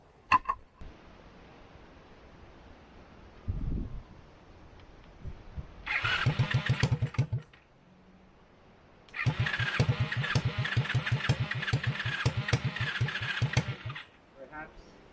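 A 70cc Chinese quad engine with a freshly rebuilt top end sputters, then catches and runs in two rapid, popping bursts separated by quiet, close and fairly loud.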